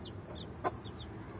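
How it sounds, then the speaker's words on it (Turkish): A single short hen cluck stands out over a quiet, noisy background, with faint high chick peeps scattered around it. "Tavuğumuz ve civcivleri."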